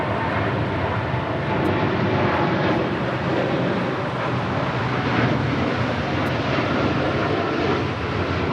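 A heavy Boeing Dreamliner departs Los Angeles International Airport, its jet engines holding a loud, continuous broadband roar that stays steady and unbroken throughout.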